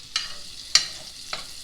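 Oil and butter hitting meat drippings in a pan for Salisbury steak, three short sharp sizzling spurts over a quiet low background.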